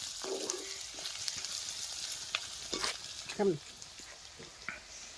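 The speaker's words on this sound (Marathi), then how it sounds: "हे शेंगदाण्याचे आपण परतून घेतले" Peanuts being sautéed in a pan, a low crackling sizzle with scattered stirring scrapes, fairly faint and close, while someone talks over it.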